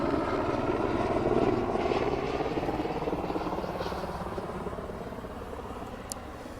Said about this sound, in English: Now we're being buzzed by the helicopter.